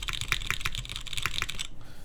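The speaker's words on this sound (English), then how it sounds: "if I'm typing a little bit more heavily, then I do hear it a little bit more" Typing on a QK Neo60 Cu mechanical keyboard: a fast, dense run of close, fairly heavy clacking keystrokes for under two seconds, then the keys stop.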